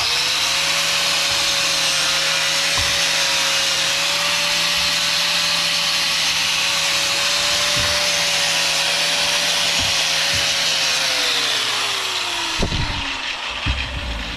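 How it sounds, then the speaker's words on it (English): A power-driven wire wheel cleans brake caliper slider pins on a 2011 Nissan Altima 2.5 SL. It whines at a steady pitch for about twelve seconds, then winds down with a few clunks. "I'm just going to go ahead and hit them with this wire wheel"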